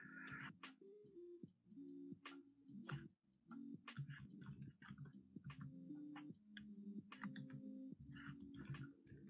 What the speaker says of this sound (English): I'm just typing something.